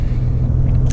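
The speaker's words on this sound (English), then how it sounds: "so normal driving on these city roads" A Lincoln Navigator Black Label cruising on city roads, with a steady low engine and road rumble close inside the cabin and tyre noise underneath, with no voices.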